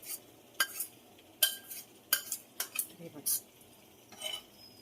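A utensil stirs cooked mutton in a metal pan, with a series of sharp clinks and scrapes in an uneven rhythm and light sizzling between them.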